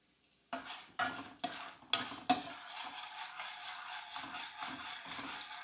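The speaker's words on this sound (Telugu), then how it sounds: "ఫస్ట్ నేనైతే శనగపప్పు వేసానండి కొంచెం లైట్గా కలర్ మారేదాకా ఫ్రై చేసుకుని పక్కకు తీసుకుందాం" Chana dal frying in a steel kadai, stirred with a metal spoon: several sharp scraping clanks spaced about half a second apart, then softer intermittent scrapes over a faint sizzle.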